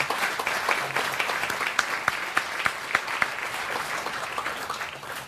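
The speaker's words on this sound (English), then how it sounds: "we do want to give a round of applause for Glenn Paul Friedman" A room of guests at a Valentine's dinner gathering gives a round of applause, dense steady clapping with a few sharper individual claps standing out, carrying on for several seconds.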